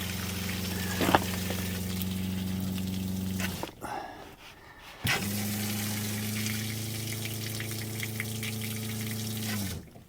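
Antifreeze runs steadily from the brass low-point drain valves of an RV over a constant pump hum, which stops briefly midway and then resumes at the same level.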